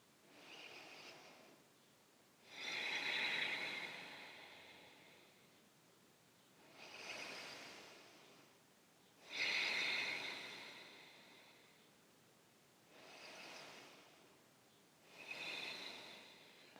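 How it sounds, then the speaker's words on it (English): Slow, deep yoga breaths taken one after another in a quiet room, each breath a soft airy rush that swells and fades, several cycles with calm pauses between and no talking. "Taking 3 deep breaths here."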